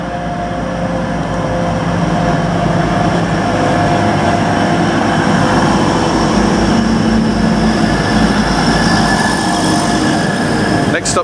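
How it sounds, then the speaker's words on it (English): Riding inside a moving passenger train produces a loud, steady rumble with rolling wheel noise and faint squeals, continuous throughout, ending in a brief sharp click. "So I've just come on this train from Murfield"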